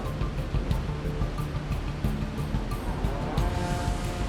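A 100-meter-high waterfall pours in a continuous, dense roar, steady and broad with no pauses, heard on its own without voices.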